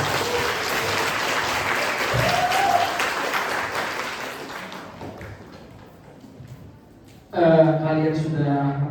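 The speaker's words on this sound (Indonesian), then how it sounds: "Sekali lagi tepuk tangan untuk kelas 11-12." At a school event, an audience claps for the class 11-12 students after their sociodrama performance, with sustained applause that fades out. A voice then speaks over the hall's sound system.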